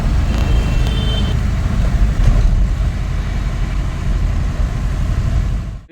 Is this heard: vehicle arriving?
yes